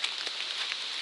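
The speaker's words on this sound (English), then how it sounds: "So it started raining a little harder." Steady rain falling harder along the Appalachian Trail, a dense even hiss of drops with scattered louder patters, close and continuous with no voices.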